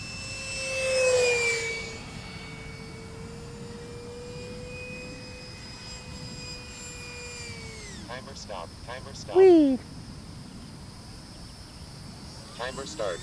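A Freewing Lippisch 64mm electric ducted-fan RC jet at half throttle, a thin, steady whine passing overhead that drops in pitch as it flies away. A voice talks briefly near the end.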